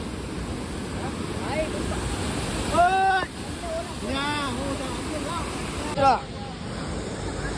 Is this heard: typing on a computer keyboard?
no